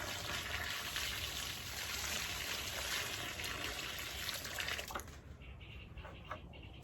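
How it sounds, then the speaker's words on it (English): Water poured from a container onto plants in a front yard garden bed, a steady close splashing trickle that ends near the end and leaves a quieter outdoor background. "Now I will pour the rest of the water."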